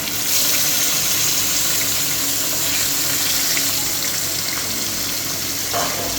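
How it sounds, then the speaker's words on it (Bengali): Pieces of chital fish rubbed with turmeric and salt frying in an iron wok, a dense, loud hissing sizzle filling the whole stretch without pause, close by and without any voices. "আমি মাছগুলো ভেজে নেব।"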